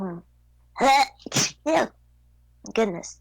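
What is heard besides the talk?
sneeze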